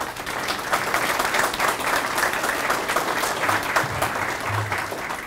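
A Veterans Day ceremony audience at a VFW post in Hays, Kansas applauds steadily, a dense and sustained round of many hands clapping at an even, fairly loud level throughout with no talking.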